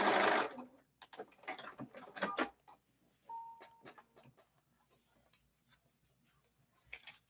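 A sewing machine stitches a straight seam with right sides together while quilting a strawberry foundation paper-pieced block, heard as short bursts of close, uneven clicking and whirring separated by pauses, with a brief tone partway through.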